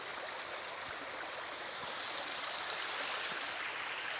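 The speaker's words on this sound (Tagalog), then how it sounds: "Yan ang ilog nila dito guys, oh." A river in Laiya, Batangas rushes steadily with a dense, even hiss of flowing water, heard close and continuous with no voices.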